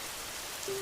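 Heavy rain pours steadily over a roofless village, a dense, even hiss of drops with a faint tone rising near the end.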